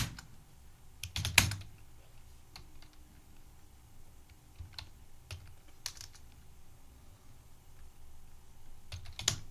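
Computer keyboard typing while entering a ledger in TallyPrime accounting software, heard as sparse, quiet key clicks with a few louder taps and pauses between them, close up and without speech.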